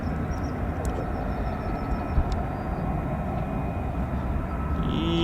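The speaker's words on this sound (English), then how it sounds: "So more F-35s taxiing." F-35B stealth jets taxi at an RAF airfield, a steady loud broadband engine roar and rumble that holds level throughout, with faint high whines riding on top.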